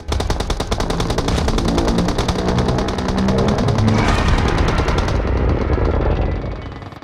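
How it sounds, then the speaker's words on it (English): Sustained automatic gunfire from about seven players shooting at Godzilla in PUBG Mobile, a loud, dense rattle of overlapping rapid shots that runs nearly unbroken for about six seconds before tapering off. "we have here about 7 players continuously shooting at Godzilla"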